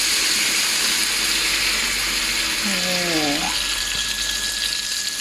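Marinade is poured into a hot pan of chicken liver and gizzards, producing a loud, steady hissing rush that fills the whole stretch, with a brief voice partway through.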